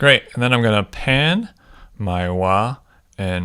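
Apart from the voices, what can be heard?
No everyday noise stands out behind the speech.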